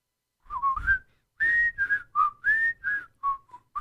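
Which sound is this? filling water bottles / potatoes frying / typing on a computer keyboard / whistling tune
whistling tune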